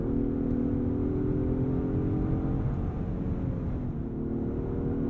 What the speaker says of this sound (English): I like the sound of that twin-turbo V6. There's a sonorous note to it.